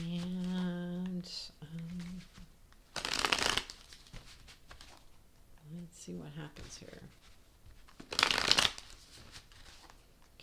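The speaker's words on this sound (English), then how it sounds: "Okay, I'm told 2 more times to shuffle and then cut." Tarot cards being shuffled by hand during a reading, two quiet bursts of riffling separated by pauses, close and soft, with a person speaking quietly in between.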